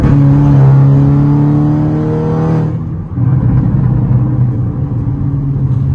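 Volkswagen Golf 6 R engine revving loud and close with strong harmonics, then dropping back after about three seconds to a rough, rumbling idle that carries on to the end.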